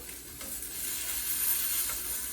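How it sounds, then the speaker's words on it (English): A tuna steak sizzles steadily in a hot pan while being flipped for tacos, with a constant hiss of frying throughout and no voices. "Our tuna steak, nice little flip."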